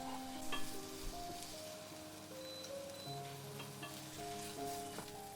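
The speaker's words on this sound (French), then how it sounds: "quand l'huile est chaude, je rajoute mes oignons que je vais laisser dorer" Onions frying in hot oil to be browned, a soft, steady hiss and crackle heard faintly beneath a background of musical tones, with no speech.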